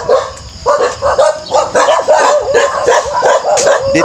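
A dog barks in close, loud, rapid repeated yaps and bow-wows, with some whimpering yips mixed in, outdoors on a rural property.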